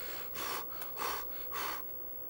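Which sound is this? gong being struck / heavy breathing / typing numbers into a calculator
heavy breathing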